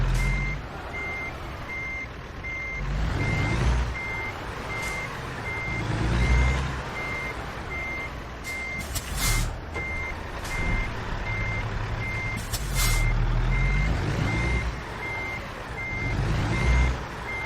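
A truck in American Truck Simulator reverses with a steady series of evenly spaced reversing beeps over a low diesel engine rumble, punctuated by hisses of air brakes.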